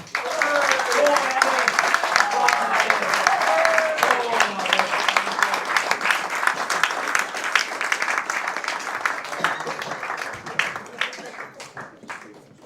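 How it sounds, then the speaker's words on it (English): A conference crowd at a Britain First event applauds, a loud sustained round of clapping with some voices, which thins and fades toward the end. "everyone please give a huge round of applause"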